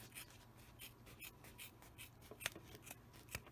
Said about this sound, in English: I'm going to go ahead and cut this into a rectangle for the scrap piece at the end